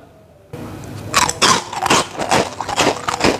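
After a moment of quiet, close crisp crunching bites and chewing into a fried potato donut with balado seasoning, loud and crackly, repeating several times.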